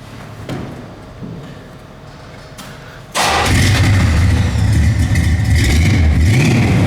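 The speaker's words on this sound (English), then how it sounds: "How about one more real quick startup?" A 1970 Chevrolet Nova engine cranks and catches about three seconds in, then settles into a loud, steady idle with light revving, close by; quieter background noise precedes the start.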